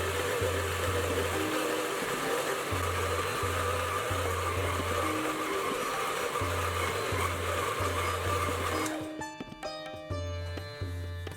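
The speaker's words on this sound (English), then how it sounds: "I'll be using my trusty but very old and excellent Kenwood Chef, which will only require about a minute to mix together." An old Kenwood Chef stand mixer kneading naan dough, a loud steady motor whir with a rhythmic low thumping as the dough turns, the tone shifting and roughening near the end.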